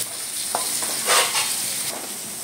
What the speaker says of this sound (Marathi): चांगला फ्राय करून घेऊया कांदा, थोडासा ब्राउनिश होईपर्यंत